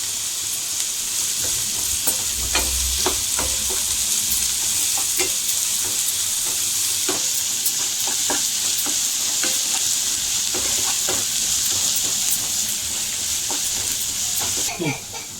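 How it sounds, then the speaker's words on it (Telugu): Onions and a handful of curry leaves frying in oil over a medium flame, a steady close sizzle running throughout with scattered stirring clicks and scrapes of the spoon in the pan. "మీడియం ఫ్లేమ్లో ఒక ఫైవ్ మినిట్స్ వరకు అయితే ఫ్రై చేసుకుందాం ఈ ఆనియన్స్"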